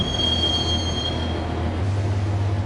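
Train carriage riding the rails toward a station, steady loud rumble with a sustained high wheel squeal ringing over it throughout.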